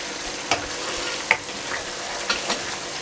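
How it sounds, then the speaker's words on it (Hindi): Chicken sizzles in a pan as the yogurt liquid cooks off, giving a steady bright frying hiss broken by a few louder spatters and stirring scrapes. "इसमें से तकरीबन दही का पानी ख़त्म हो चुका है और ये भुन रहा है।"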